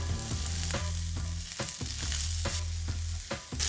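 Garlic and finely chopped kale frying in a pan over lowered heat, a continuous loud sizzle with regular stirring scrapes roughly every half second, no voices.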